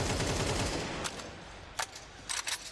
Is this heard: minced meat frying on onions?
no